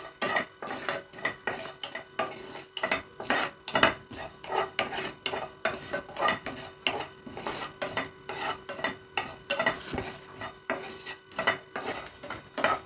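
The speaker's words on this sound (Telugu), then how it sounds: "ఇవి కూడా కొద్దిగా వేయించుకుందాం" Fenugreek seeds being stirred and roasted in a metal pan, with a spoon scraping and clinking against the pan in a quick, repeated rhythm and a faint sizzle underneath.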